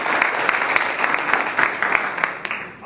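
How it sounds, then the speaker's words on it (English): An audience at a political event with the governor in Vidalia, Louisiana gives a round of applause, a full, steady patter of many hands with scattered sharper claps throughout. "Let's give him a round of applause, please."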